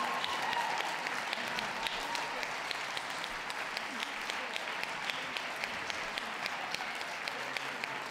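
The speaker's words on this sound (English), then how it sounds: "Give the others a round of applause, please." Steady applause from an audience at a dog show, clapping for the competitors after the German Shepherd's win, fairly even and sustained throughout with a voice speaking briefly over it.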